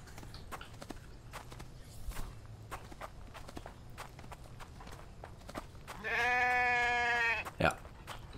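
In the video game The Infected, a sheep gives one drawn-out bleat near the end, after a run of soft, quiet footsteps and clopping.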